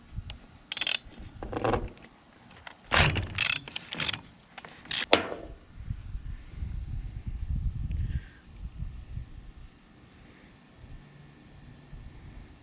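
A socket ratchet loosens a snug bolt on a small chainsaw or weedeater carburetor, giving close, sharp bursts of clicking in quick runs and then settling into quieter handling noise.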